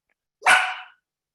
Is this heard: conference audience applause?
no